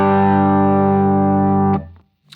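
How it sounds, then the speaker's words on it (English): An electric guitar with humbucker pickups plays one sustained chord through a Lightspeed overdrive pedal set to a light, subtle drive. It rings loud and steady for under two seconds, then is cut off and fades, followed by a faint click. "It's a very light overdrive right now, and you can hear it sounds a little darker with my humbuckers"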